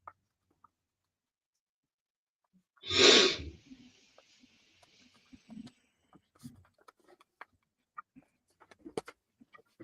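A single loud, close sneeze bursts out on its own, followed by quiet scattered small clicks and faint rustles.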